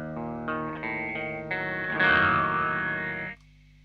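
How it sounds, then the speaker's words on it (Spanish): Electric guitar run through an EQD Interstellar Orbiter effects pedal, a series of sustained chords with a swirling, distorted, chorus-like filtered tone that swells louder midway before cutting off, no talking. "Y si lo pongo acá al mínimo, es el sonido de la guitarra con efecto nomás."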